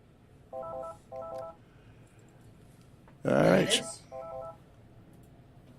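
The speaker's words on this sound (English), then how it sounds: "We got a phone call." Telephone keypad tones beep in short, evenly spaced chirps: two quick bursts, then a louder clatter of handling noise and a brief word from a man, then one more tone, all faint and close.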